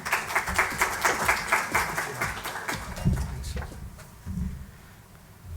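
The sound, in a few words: audience applause at a seminar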